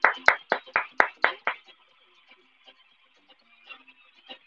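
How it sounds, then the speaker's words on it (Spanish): Short burst of hand clapping from a small group of students in a live online class, about eight sharp claps over a second and a half, then a few scattered faint claps trailing off. "un aplauso para todos allá"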